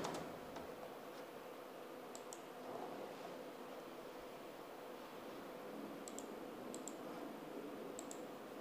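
Soft, quick keystrokes on a computer keyboard as an SQL query is typed, light clicking in a quiet room with no talking.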